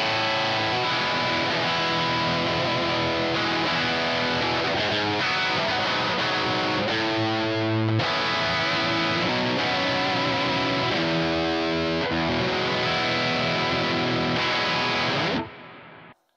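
Overdriven electric guitar through a Kemper profiling amp running an Orange Rockerverb MK III profile with the boost off, played as loud, dense, sustained riffs and chords that ring continuously before cutting off near the end.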